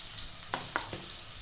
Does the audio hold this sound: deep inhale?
no